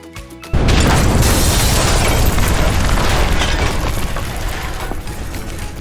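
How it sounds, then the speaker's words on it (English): A loud cartoon explosion bursts in with a sudden boom after half a second of quiet, then a sustained crashing, rumbling roar fills the rest of the clip. "Bottled Up Bear has exploded!"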